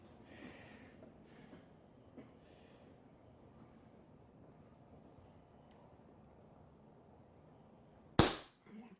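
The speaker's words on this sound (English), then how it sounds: "Boom, we got a perfect center punch." A single sharp metallic strike of a center punch into a soft aluminum lock ring, very loud and close near the end after a stretch of quiet room noise.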